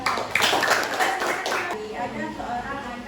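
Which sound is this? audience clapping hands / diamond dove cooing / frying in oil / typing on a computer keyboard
audience clapping hands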